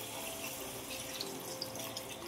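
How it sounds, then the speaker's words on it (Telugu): Water from a glass poured into a pan of gongura dried-prawn curry, a steady broadband splashing rush lasting the whole stretch at even loudness with no voices. "ఇప్పుడు ఒక గ్లాసు వాటర్ పోసుకోవాలి"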